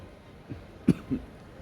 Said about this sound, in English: Oh, sorry, I want to cough.